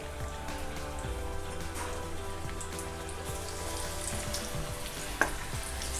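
Chili fritters (mirchi bhaji) coated in gram-flour batter, two at a time, frying in hot oil over medium heat as a Konkan Ganpati-festival snack: a steady, close crackling sizzle with a sharp pop near the end, no talking.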